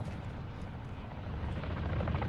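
A helicopter in the online shooter Call of Duty DMZ makes a steady, rumbling rotor drone that grows slightly louder over the stretch, with no speech over it.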